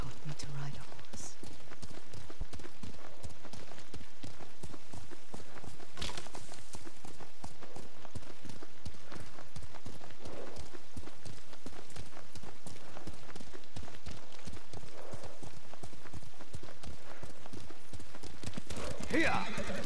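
A horse gallops with rapid rhythmic hoofbeats in the Ghost of Tsushima video game, loud and continuous throughout, joined by an occasional whinny while characters talk over the galloping.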